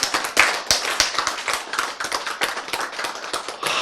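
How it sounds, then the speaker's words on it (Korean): Brief scattered clapping from a church congregation, a handful of sharp, uneven hand claps and taps in quick irregular bursts, fairly close and without a full sustained ovation. "박수."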